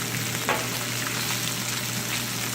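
Opah fish fillet sizzling as it fries in a pan on the stove, a steady crackling hiss that continues evenly throughout with no talking.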